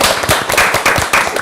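Audience applause at a youth debate forum with a government official, heard as a short burst of dense, close clapping that rises and falls in quick waves.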